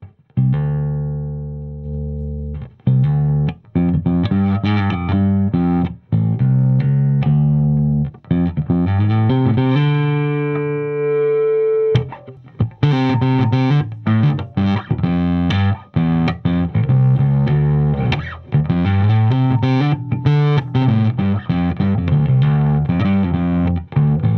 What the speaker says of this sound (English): the distortion and the overdrive kicks in really quickly, really easily